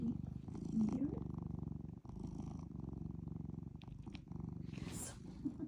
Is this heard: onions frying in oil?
no